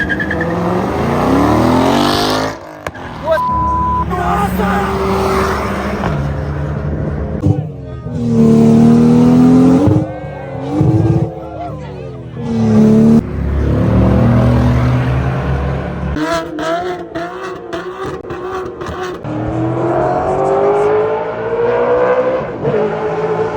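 Cars revving and passing at the Festival of Motoring, South Africa's big automotive event, with loud, sustained engine roars rising and falling in pitch, an abrupt cut partway through, then a further stretch of engine noise close by.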